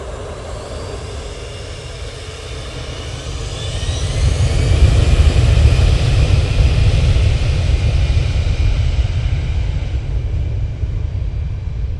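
Airliner departing Manchester Airport for Prague, a broad jet engine roar that swells after a few seconds and stays loud and steady, heard from a distance with no voices.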